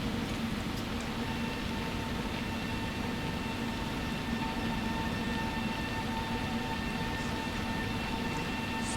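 An ED250 Pendolino train running in the SimRail game, a steady rumble with sustained electric tones and hum, constant and fairly loud throughout, with no talk.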